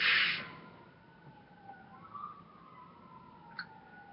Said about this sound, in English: I heard sirens outside.